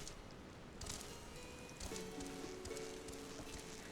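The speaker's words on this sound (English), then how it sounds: "It's also raining." Steady hiss of falling rain in the video game Final Fantasy XIV, moderately quiet, with a faint tonal hum and some soft rustling mixed in.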